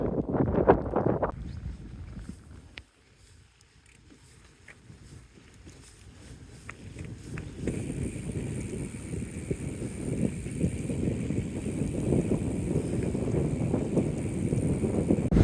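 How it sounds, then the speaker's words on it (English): Wind on a long-distance walking trail in the Scottish Highlands near a loch, a broad rushing buffet across the microphone that steadies into a continuous roar with faint footsteps beneath. "The wind's blowing me along."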